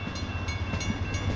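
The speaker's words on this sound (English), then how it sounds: "Here comes the train." A train rolls through a railroad crossing at Mill Creek in Salem, Oregon, a steady low rumble with faint rhythmic wheel clatter and no horn.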